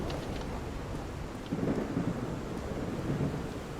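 Steady rain with a low rolling thunder rumble in a cold, wet outdoor scene from Call of the Sea, the rumble swelling twice over the constant hiss of falling rain.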